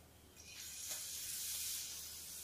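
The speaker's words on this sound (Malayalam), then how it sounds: "എണ്ണ ഇപ്പൊ നല്ല ചൂടായിട്ടുണ്ട്. ഇനി അതിലേക്ക് 2 തണ്ട് കറിവേപ്പില ഇട്ട് കൊടുക്കുക." Curry leaves dropped into hot oil in a pan give a faint, steady sizzling hiss that swells after the first half-second and holds through to the end, with no voices.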